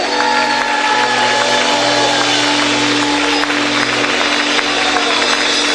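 A church congregation applauds continuously and densely for the Lord, with sustained music tones ringing underneath throughout.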